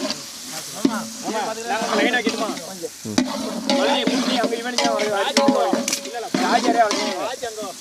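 Chopped onions with green chillies sizzle and fry in a pan over high heat for a Tamil-style country chicken roast, with steady stirring and scraping throughout and a voice talking now and then in the background.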